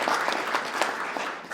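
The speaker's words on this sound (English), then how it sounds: "let's give a round of applause for everyone that's a part of putting this together" Brief burst of audience applause at a PechaKucha presentation night in an arts venue, dense clapping from a crowd, steady and close throughout.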